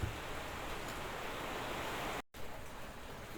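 Monsoon rain falling at a coastal college viewpoint in Uttara Kannada, a steady, even wash of rain noise that briefly cuts out partway through, then resumes.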